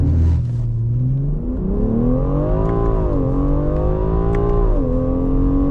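A BMW X4 M Competition's powerful engine revs and surges as it launches hard from launch control, the pitch climbing through several gear shifts; loud and close, with no talking.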